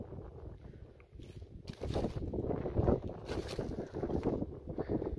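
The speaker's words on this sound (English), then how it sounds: "It got windy." Wind gusts roar across the microphone in open country during a rabbit hunt, a steady rough rumble that swells louder partway through and carries on with no talking.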